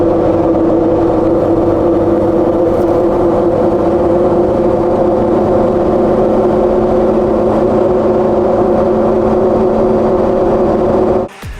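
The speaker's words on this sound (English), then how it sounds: "definitely some droning in the cabin" Tire drone inside the cabin of a Jeep JL on 38-inch tires, a steady loud low hum with a tonal whine that holds unchanged throughout.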